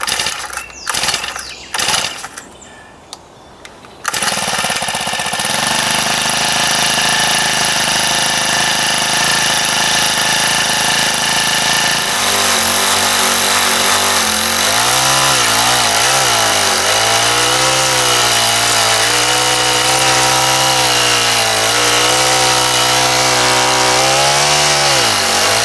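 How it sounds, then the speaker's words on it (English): A small Honda garden tiller engine runs steadily and loud throughout, starting after a few seconds of knocking, then a continuous droning roar that shifts in pitch as it works the soil, with no speech. "So my little Honda tiller is going to make short work of it."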